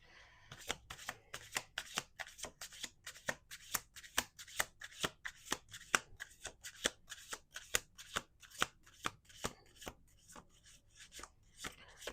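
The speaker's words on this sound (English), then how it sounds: "Two more shuffles." Tarot cards being shuffled by hand in repeated quick riffles, a steady run of sharp crisp bursts close up with no talking.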